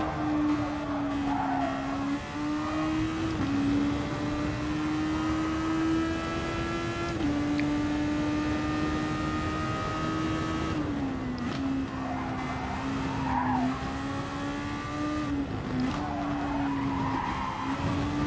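Race car tires squeal and skid almost continuously in the GT Sport racing game, a sustained wavering whine over steady engine drone, loud and close with no talking.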